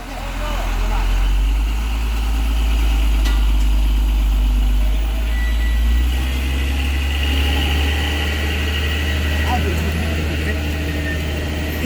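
A heavy truck engine labours on the steep Kedabuhan uphill road, a deep continuous rumble that holds steady and strains throughout, with people shouting nearby over the drone.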